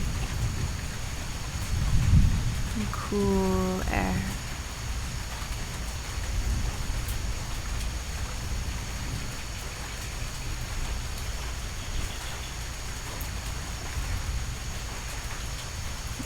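Steady rainfall in a rainforest thunderstorm, with a low thunder rumble early on and a brief tonal call standing out near the start, while a calm voice speaks softly over the rain.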